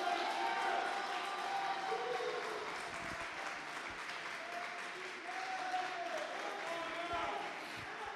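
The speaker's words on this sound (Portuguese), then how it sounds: "Pode aplaudir, irmão, não precisa esperar pedir não." A church congregation claps steadily through a Portuguese-language evangelical sermon, a fairly faint, sustained wash of applause with soft tonal sounds threading underneath.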